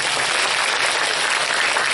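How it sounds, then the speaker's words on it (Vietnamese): An audience at a middle-school career-guidance session applauds. The clapping is loud, dense and sustained, with no talk over it. "Một tràng pháo tay"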